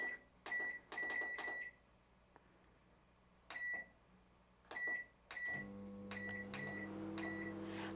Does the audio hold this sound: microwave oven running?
yes